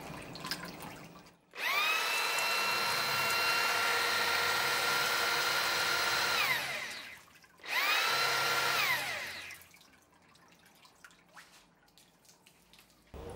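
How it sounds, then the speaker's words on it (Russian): A power drill spins the water pump of a Yamaha 6C outboard motor, taken off the engine, in two loud, steady whirring runs. The first lasts about five seconds and the second is shorter, each rising and falling in pitch, with water splashing in between. "Можно проверить водяную помпу отдельно от двигателя при помощи дрели."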